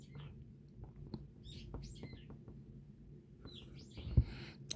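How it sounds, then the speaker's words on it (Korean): Small birds outside a fifth-floor apartment window give faint, scattered chirps and short tweeting calls against a quiet indoor room hum. "새소리가 들리네."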